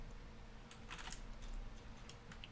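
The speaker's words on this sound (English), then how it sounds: "Rocket, that is the keyboard." A cat walking across a computer keyboard sends scattered key clicks and taps, soft and close, against a low steady hum in an otherwise quiet room.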